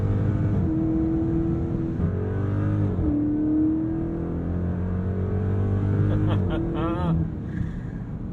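A 2023 Chrysler 300C in track drive mode accelerates hard on a straight stretch of canyon road, its engine droning steadily and loud throughout with a brief rising sweep near the end, heard from inside the car.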